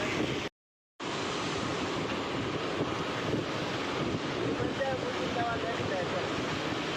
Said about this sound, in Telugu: కిరణ్ కిరణ్ కిరణ్ కిరణ్ చూడ ఇది మిల్లి పైకి అలా పొంగుతుంది చూడు.